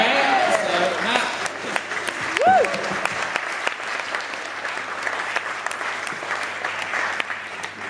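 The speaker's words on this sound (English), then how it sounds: "please get a round of applause for Matt for, well, getting here on time" Wedding reception guests clap in a sustained round of applause at a best man's speech, a dense steady patter filling the room from start to finish with a brief whistle-like tone partway through.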